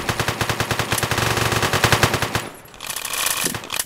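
Rapid automatic gunfire from the video game One Armed Robber pounds out as a fast, even burst of shots for about two and a half seconds, then cuts to a brief lull and a noisy wash of game sound.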